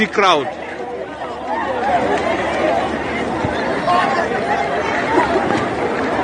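A dense crowd chattering at a PVC voter card registration site in Abuja, Nigeria, a loud continuous babble of many overlapping voices close around, with no single voice standing out for long.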